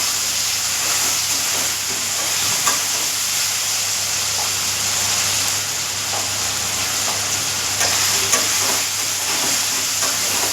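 Potatoes fry in a pan with a steady, close sizzle and hiss while a spoon stirs them now and then, with no talking.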